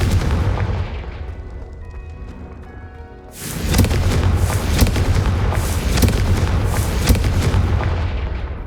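The Confringo spell explodes in the game Hogwarts Legacy with a sudden loud boom after a quieter lead-in, followed by a sustained crackling, rumbling blast with repeated sharp impacts that gradually fade.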